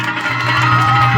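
A crowd at a Sant Ravidas Jayanti political rally in Islampur cheers and shouts loudly, a dense, continuous roar of many voices rising steadily with no single speaker.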